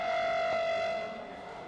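A civil defense air raid siren sounding in Delhi, a steady sustained wail that holds and then fades slightly, heard alone.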